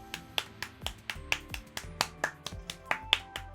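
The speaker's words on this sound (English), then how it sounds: "This is the sarcastic slow clap that you get when you lose in Super Smash Bros. Melee." A sarcastic clap from losing in Super Smash Bros. Melee plays as a steady run of sharp, crisp claps, about four a second, close and even throughout.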